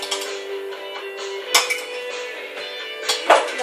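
A utensil clinks and taps against a bowl while salad dressing is mixed, giving a few sharp, close knocks at irregular intervals over a faint steady hum, with no talking.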